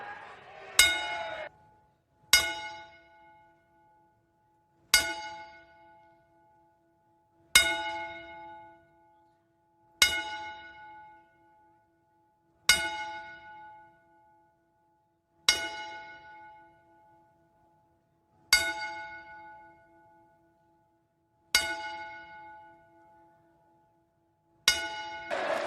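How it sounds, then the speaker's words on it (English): A bell tolls ten times in tribute, each clear ringing strike spaced a few seconds apart and left to decay into near silence in a quiet hall. "we toll the bell 10 times"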